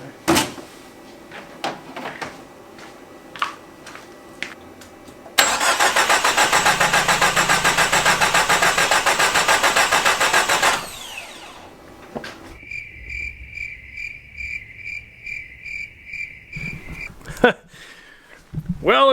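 A Datsun convertible's carbureted engine is cranked with a forklift starter. Loud, steady whirring cranking runs for about five seconds and fails to catch. Clicks and rattles come before and after it, along with a high electrical whine.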